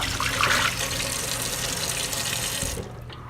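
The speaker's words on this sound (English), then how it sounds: "So I'm gonna rinse it with water real quick." A kitchen tap runs steadily as something is rinsed under it, a close, loud broadband rush of water that cuts off near the end.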